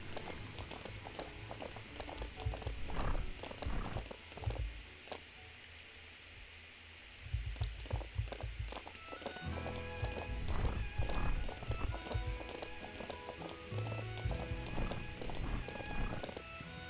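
Horse hooves clip-clop on a ranch while the horse is led, the hoofbeats close and irregular, coming in uneven clusters with a brief lull partway through.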